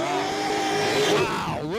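A supercharged, fuel-injected 1955 Chevrolet drag car roars loud and close at a dragstrip, its engine note holding steady then sweeping upward near the end as it launches.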